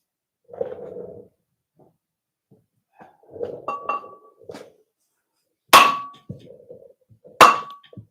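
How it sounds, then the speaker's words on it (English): Hammer blows on metal while a 3RZ engine is torn down: two loud, sharp clangs that ring briefly, spaced about two seconds apart, after quieter knocks and shuffling of parts. "I got a bigger hammer."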